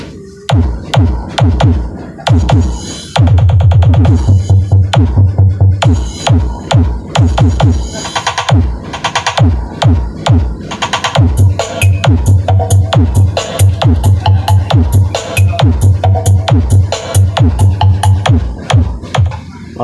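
Loud, bass-heavy dance music blasting from speakers driven by an Audio Master AC 650 amplifier, with punchy rhythmic beats and pulsing low end throughout, briefly dropping out before returning.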